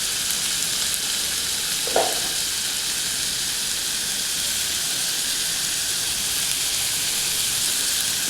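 Onions with a pinch of salt sizzle steadily in a pan for chicken biryani, a continuous bright hiss with one brief scrape of stirring near the start, no voices.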